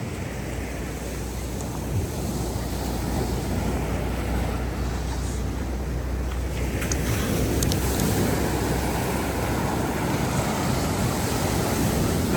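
Steady ocean surf washing continuously on the coast of Antique, Philippines, a broad even roar with some wind buffeting the microphone.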